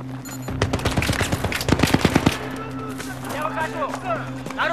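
Gunfire in the Battlefield 3 video game, a rapid burst of automatic shots followed by scattered fire and battle noise over a steady engine-like hum, with game voices talking around it.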